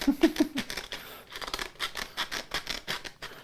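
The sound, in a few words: cutting with scissors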